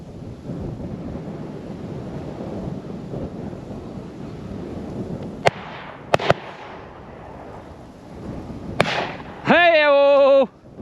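Shotguns firing at a tower pheasant shoot, a few sharp distant bangs spaced across a windy outdoor background, followed by a brief loud whistle-like tone near the end.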